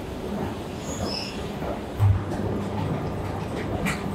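Metro train of Istanbul's airport M11 line at an underground station, a quiet, steady rumble of rolling carriages with a brief thump midway and faint wheel squeals.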